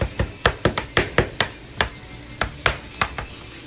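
Garlic is chopped finely with a knife on a cutting board, a brisk series of sharp, close taps coming in uneven bursts with brief pauses between them.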